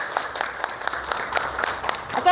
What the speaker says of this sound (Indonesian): Beri tepuk tangan untuk ke-6 kelompok